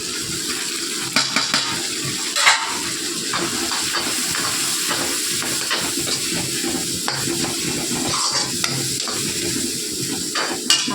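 Tomatoes and masala sauté in a pan, giving a steady close sizzle with occasional stirring scrapes and clicks throughout, and no talking.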